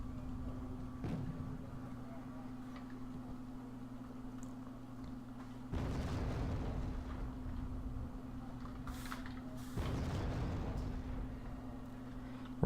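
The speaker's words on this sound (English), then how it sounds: "Random mortar fire from Tyranic really is not doing much" Mortar fire in a video game battle, heard as two broad booming bursts roughly four seconds apart over a steady humming background drone, with a few fainter thuds between them.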